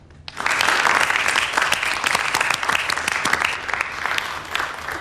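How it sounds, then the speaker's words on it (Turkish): Studio audience on a television show bursts into applause, quickly rising to a full, steady round of clapping that continues for several seconds with occasional sharper claps standing out. "Biz bir moral alkışı alalım kumsal arkadaşımız için."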